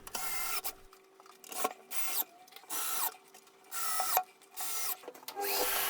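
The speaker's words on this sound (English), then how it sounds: "fixing it to the wall with screws driven straight through the back" A power drill drives screws through the back of a shelf into a wall in short whirring bursts, each a few seconds long with brief pauses between them, close and loud.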